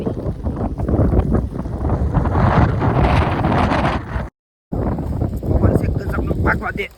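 Steady wind buffets the microphone in broad, rumbling gusts, with a watery boat-like wash and a brief dropout partway through.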